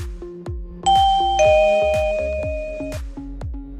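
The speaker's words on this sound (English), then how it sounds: "The TCP Smart Doorbell comes complete with a plug-in indoor chime," A TCP Smart Doorbell's plug-in indoor chime rings out clear, sustained tones over a steady, repeated percussive pulse, loud and close with no talking.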